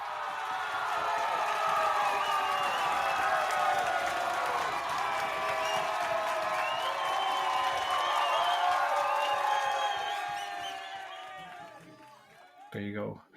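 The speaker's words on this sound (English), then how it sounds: "I've heard that cheering so many times" A recorded crowd cheering and whooping loudly for about ten seconds, dense and sustained, then fading out, with a brief voice at the very end.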